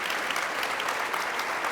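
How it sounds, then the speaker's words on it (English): Audience applause for a panel at a Jewish theatre talk, a dense, steady burst of clapping from a seated crowd, brief and uniform throughout. "will you just join me in just a round of applause for this panel."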